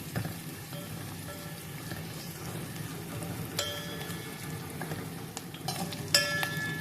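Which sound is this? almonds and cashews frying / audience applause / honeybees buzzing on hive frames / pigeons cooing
almonds and cashews frying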